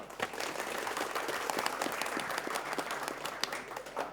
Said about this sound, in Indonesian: Sekali lagi saya mau dengar tepuk tangannya dari teman-teman yang ada di studio.